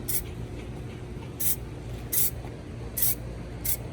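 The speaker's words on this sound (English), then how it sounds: "I just try to just do a little light spray at first" Four short, light bursts of spray paint hissing from a can onto a NASCAR Next Gen scale model, evenly spaced with pauses between, over a low background rumble.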